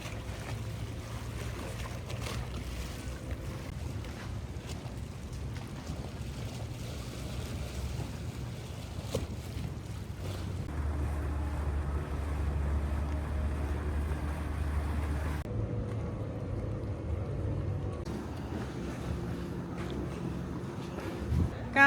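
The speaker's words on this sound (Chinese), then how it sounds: "刚刚坐的这个小船，" A small motor boat carries passengers through the stilt water village of Brunei, its low engine drone steady under splashing water and wind, shifting pitch as it moves along.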